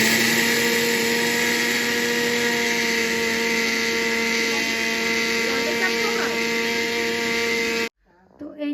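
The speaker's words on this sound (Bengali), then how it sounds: "এবার আমি মিক্সচারটা করে নেব।" An electric mixer grinder grinding rice into flour, a loud, steady high-pitched whine that runs without a break for several seconds and then cuts off abruptly.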